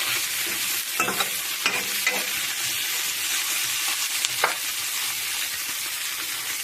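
Green chillies and brinjal fry in hot oil with a loud, dense sizzle close by, broken by several bursts of stirring and spattering.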